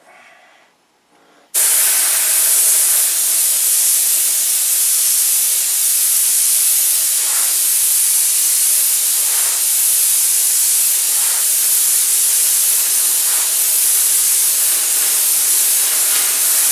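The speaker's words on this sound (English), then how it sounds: "I'm going to come back and I'm going to put one final wet coat on" A spray gun lays a final wet coat of paint on the trim of a P-47 model, a steady, loud, close hiss that starts abruptly after a short quiet moment and runs on without a break, no voices.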